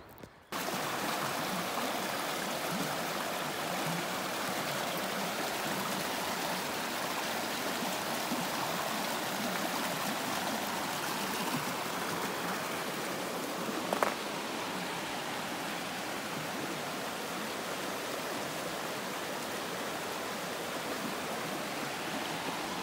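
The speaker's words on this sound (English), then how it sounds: "The streams that come through this area on both sides of Irwin are some of the most beautiful." A mountain stream on the Appalachian Trail near Erwin rushes steadily, a broad, even wash of flowing water filling the whole stretch with a brief louder splash midway.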